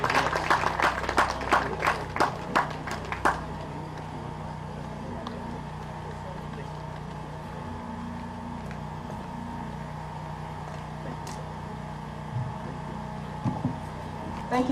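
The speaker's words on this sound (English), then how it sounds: "Can we have another round of applause?" Audience applause after a speech at a live Ala Igbo disability-inclusion event, with a burst of clapping for about three seconds that quickly fades into a steady, low hall hum.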